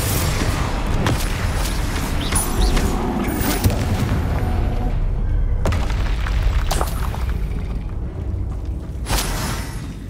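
Confringo and Bombarda spell explosions in the Hogwarts Legacy video game boom repeatedly over a dense rumbling battle din, loud and close, with several sharp blasts over ten seconds.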